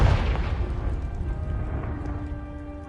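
A Confringo spell explosion in the Hogwarts Legacy video game, a single loud boom at the start that rolls into a long rumbling decay with faint tonal ringing.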